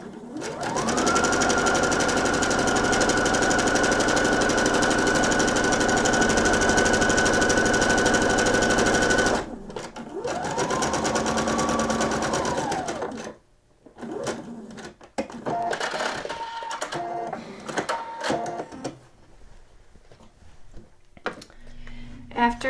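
Sewing machine stitching the neckline of a nightgown runs loud and steady for about nine seconds, stops, then runs again in a shorter burst before fabric handling and light clatter; a voice speaks faintly at times.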